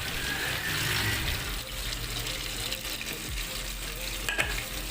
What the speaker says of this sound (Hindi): अब हम यहाँ टमाटर, जो हमने टमाटर ब्लेंड किए थे वो हम इसमें ऐड करेंगे।